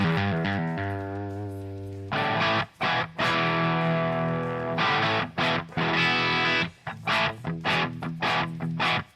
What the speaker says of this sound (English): Obviously, this is an overdrive pedal of some sort or a distortion pedal.